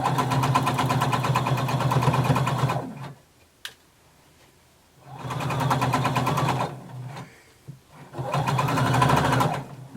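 Sewing machine stitching fabric with a regular-length stitch, running in two long steady bursts with a short pause between and starting again near the end, loud and close.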